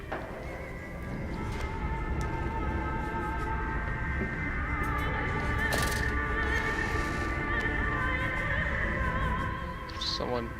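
Squealing pig cries in the horror game Amnesia: A Machine for Pigs, shrill and harmonic, echoing continuously over a dense, droning backdrop.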